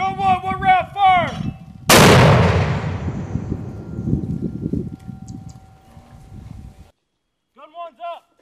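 A Fuji Viper 21.4 mortar fires a single round on a range, a sharp loud blast whose rumbling tail decays over several seconds, with shouted commands just before and a voice after.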